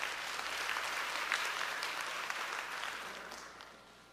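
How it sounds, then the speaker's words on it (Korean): A lecture-hall audience at a university admissions briefing claps to welcome a speaker, a dense, even wash of applause that gradually fades toward the end. "큰 박수로 안영근 선생님을 모시겠습니다"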